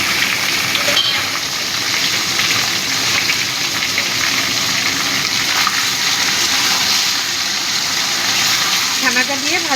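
Cottage cheese (chhana) frying with potatoes in ghee in a pan, a steady broadband sizzle running loud throughout with occasional stirring scrapes, while a person talks over it.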